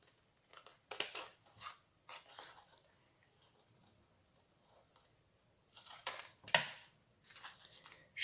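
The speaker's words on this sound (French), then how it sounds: "Je découpe vraiment au bord." Scissors snipping around the edge of a paper image for a Christmas ornament, a scattering of quick crisp cuts in short bursts separated by quiet pauses, close and soft, no voices.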